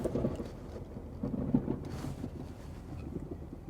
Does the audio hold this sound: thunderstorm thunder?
yes